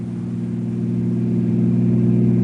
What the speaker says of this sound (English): Meanwhile, Bill hears the car approaching, and he walks out in front of the barricade